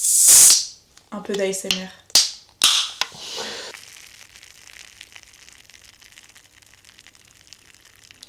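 A can of Schweppes tonic cracked open with a sharp snap and fizzing hiss near the start, followed by further clicks and a fading carbonation fizz; someone speaks softly in French over it.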